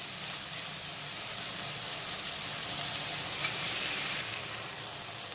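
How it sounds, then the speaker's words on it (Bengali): Chopped tomato and onion fry in a pan over low to medium heat, giving a steady, fairly quiet broadband sizzle with no voices. "এখন আবারও বেশ কিছুক্ষণ টমেটো কুচি আর পেঁয়াজ কুচিটাকে ভালো করে ভেজে নেব"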